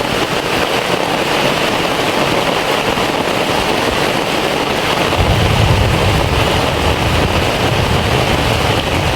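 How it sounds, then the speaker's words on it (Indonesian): Heavy rain pours on a quiet coastal village, a loud, continuous roar of water that deepens and thickens about halfway through, with no one speaking. "Hujan deras sekali ya teman-teman"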